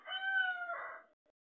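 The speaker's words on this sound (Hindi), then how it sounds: "ये देखिए ये मुर्गा" A single rooster crows once, a long drawn-out call fading at the end, fairly clear against silence.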